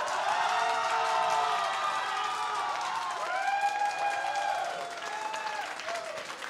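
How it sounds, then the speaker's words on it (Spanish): A studio audience at a Chilean gay showbiz panel show applauds and cheers continuously for a duo, with bright whoops and shouts rising over steady dense clapping, loud and close throughout. "Aplausos para Miranda Evans y Condesa del Mar"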